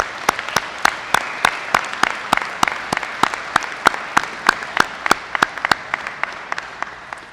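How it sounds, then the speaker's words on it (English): Applause for retiring city employees at a City of Columbus Veterans Day event: crisp, steady, evenly paced clapping that holds the same brisk rhythm throughout, close and clear with no talk over it. "Let's give them a round of applause and thank them."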